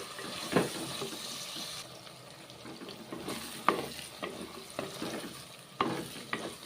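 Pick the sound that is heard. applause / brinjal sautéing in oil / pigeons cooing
brinjal sautéing in oil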